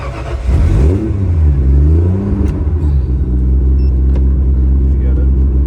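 A car with an RB30 engine revs loudly and close, its pitch rising and falling twice before settling into a steady, throaty idle.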